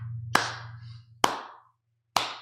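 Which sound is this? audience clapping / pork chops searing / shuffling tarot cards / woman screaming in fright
audience clapping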